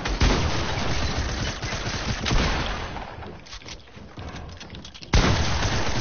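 Dense, continuous gunfire in Fortnite, rapid shots blurring into a steady roar across the whole stretch with a sharp louder burst near the end, no clear voice over it.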